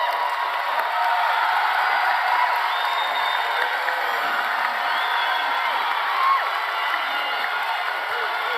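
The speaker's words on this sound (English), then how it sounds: "Parents, would you please stand and receive a well-deserved round of applause from your sons and daughters" At a high school graduation ceremony, a large audience cheers and applauds for the parents, with a dense, steady wash of crowd noise and scattered whoops.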